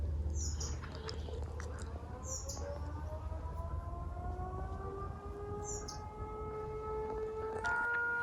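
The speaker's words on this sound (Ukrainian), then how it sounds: "просто тривога" An air raid alert siren in Ukraine wails steadily from a distance, its long rising and falling tone sustained throughout, with faint bird chirps above a low background rumble and no speech.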